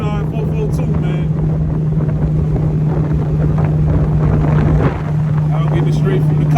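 A supercharged Oldsmobile 442 engine drones steadily from inside the car during a ride along, a constant loud hum mixed with wind rush and cabin rumble, with voices talking over it throughout.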